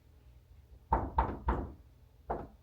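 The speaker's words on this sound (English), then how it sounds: "It's him knocking on the door." Knuckles rap on a playroom door in a quick burst of three firm knocks, then a short pause and one more, close by and hollow against a quiet room.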